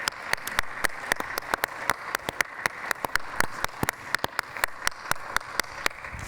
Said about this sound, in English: Everybody can give them a round of applause